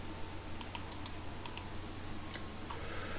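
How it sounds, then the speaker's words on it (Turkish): Computer keyboard keys being pressed while sketching in SolidWorks, several sharp clicks in quick succession followed by a couple of isolated taps, close and clear over a steady low hum. "Klavyemden A harfine bastım."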